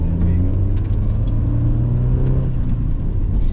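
A 1991 Nissan Silvia S13 engine pulls hard in second gear, a loud, steady, close rumbling drone with rising tonal harmonics throughout and no talk over it.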